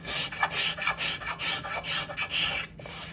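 A scraper or rasp drawn repeatedly along a wooden Philly chair back leg, giving rhythmic rough rasping strokes, close and fairly loud with brief pauses between passes.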